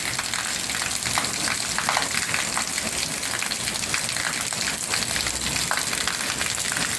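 Steady rain pours during a thunderstorm in Mazatlan, a dense, even hiss with scattered sharp patters from drops hitting nearby surfaces, continuous and fairly close with no talking.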